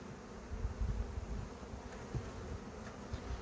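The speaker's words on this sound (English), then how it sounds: "how many bees are up in the air now" Honeybees from an opened hive swarm through the air in a dense, steady buzzing drone, many foragers close by with the hum rising and falling slightly and no voices.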